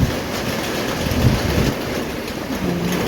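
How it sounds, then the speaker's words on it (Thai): Morning rain falls as a steady, dense hiss with no break and no voices, filling the whole stretch at an even level. "ตอน เช้านี้ก็ฝนตกแล้วนะคะ"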